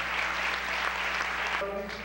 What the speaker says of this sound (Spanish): No sin antes volver a dar un caloroso aplauso